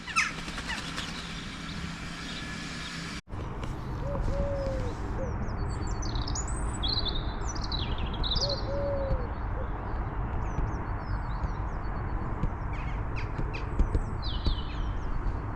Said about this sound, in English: Plenty of birds about today.